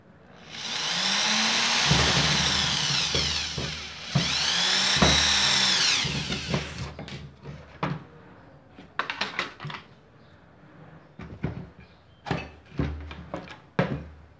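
A Bosch GSR 7-14 E drill/driver at torque setting 10 whirs loudly in two long bursts, followed by a series of sharp clicks and knocks as it works.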